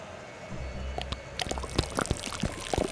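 Oil pours and drips in the Secret Files 2: Puritas Cordis game, a run of scattered close drips and splashes that thicken into a faster, irregular patter over a low steady background.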